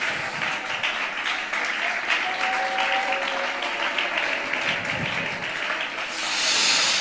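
A church congregation claps continuously in a loud, sustained burst that fills the whole stretch, with some voices mixed into it. A hissy rise near the end swells over the clapping.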